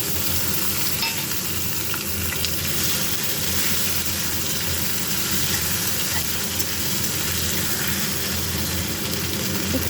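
Tomato and ginger-green chilli paste sizzle and fry steadily in a hot pan for a home vegetarian dish, a constant loud crackling hiss with some stirring, no talking.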